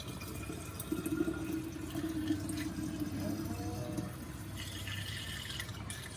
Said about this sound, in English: So now this is the fresh sugar water that I'm feeding to the kefir grains.